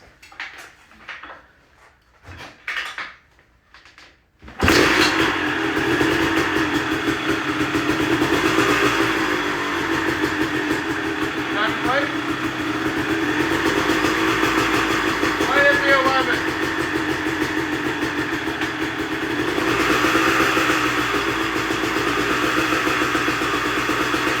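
A 1998 Kawasaki KX250 two-stroke dirt bike engine starts after a few seconds of quiet talk and then runs steadily and loudly for about twenty seconds, with a brief rev midway.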